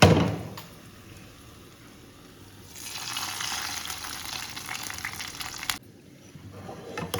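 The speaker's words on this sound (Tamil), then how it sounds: "கருவேப்பிலையும் போட்டு அப்படியே இந்த பொங்கல் ஊற்றிடலாம்" Cooked varagu millet pongal is poured into a hot cashew and curry leaf tempering, a quiet sizzle swelling into a louder hissing, gushing rush for a few seconds before easing back down.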